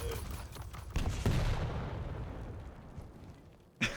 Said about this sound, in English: And the turret keeps just on shooting on the totem like a madman